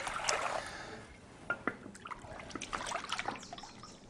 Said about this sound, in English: Adding some water, by the way, 6 cups.